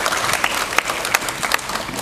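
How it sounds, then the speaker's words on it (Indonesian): Steady applause from an audience at a school campus visit to a university, dense clapping with a few sharper claps, filling the whole stretch. "Tepuk tangan untuk kita semua ya."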